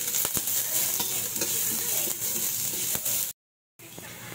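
Onion and garlic hit smoking-hot oil in a pan and give a steady, bright sizzling hiss. A short dead-silent gap cuts in near the end before the frying resumes.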